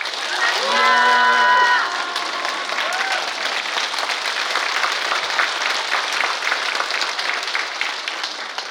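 A Catholic Sunday Mass congregation applauds the priest, a sustained, dense crowd clapping that stays steady and fairly loud throughout, with a brief tonal voice-like sound near the start.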